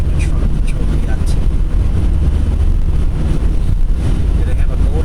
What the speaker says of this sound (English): the weather's not bad, I mean, except for the wind